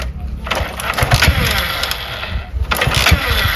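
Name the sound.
motorcycle being kick-started and engine running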